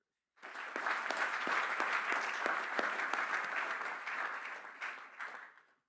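Audience applause for advisors, staff and supporters at a university business doctorate ceremony, a steady round of clapping that starts abruptly and tapers off after about five seconds.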